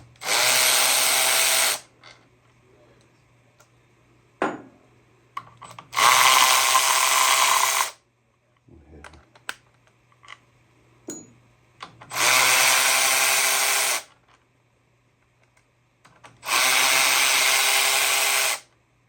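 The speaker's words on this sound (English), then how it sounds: "You guys don't have one of these ratchets, do it. Don't mess with the high torque one or the higher torque one. Get the faster." A fast electric ratchet spins out bolts on a 26 hp Briggs and Stratton engine, four loud whirring bursts of about two seconds each, separated by quieter clicks and handling noises.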